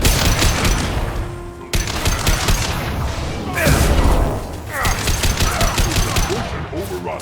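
Heavy gunfire from a firefight in the video game Mass Effect 2 fills the clip with loud, dense, continuous bursts and booms. Shouted voices sound over the shooting.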